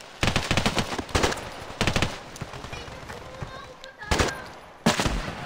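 Shotgun blasts from the mobile shooter Standoff 2, loud and close: a quick cluster of booming shots, a second burst near the first, then two more spaced blasts toward the end.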